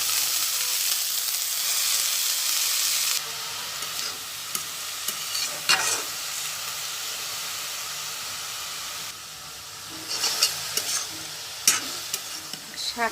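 Kalai greens hiss and sizzle loudly in a hot pan with steam, broken by scraping stirs and metal clicks as the leaves are turned, no voices.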